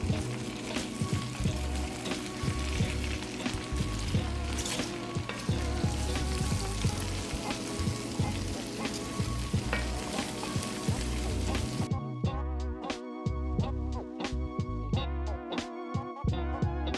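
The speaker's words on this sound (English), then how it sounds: "it's time to add in the cabbage. Now stir a lot and cook for another 10 minutes." Cabbage frying and sizzling in a pan while being stirred, a steady loud crackle with scraping stir strokes throughout, growing more distinct toward the end.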